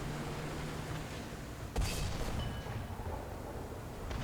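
A single cannon shot from a KV-1S Soviet heavy tank in War Thunder, one sharp loud boom over a constant low engine drone, followed by a faint ringing tail.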